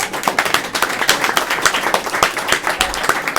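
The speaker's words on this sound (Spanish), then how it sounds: "Vamos a darle un aplauso." Audience applause at a Spanish-language stage event, a dense burst of hand claps heard up close and fairly loud for a few seconds, with individual claps standing out from the crowd.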